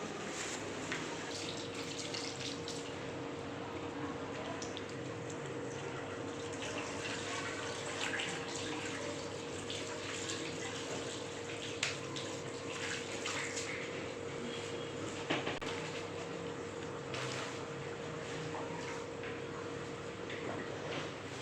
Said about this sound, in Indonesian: Saya cuci tangan dulu ya Bu.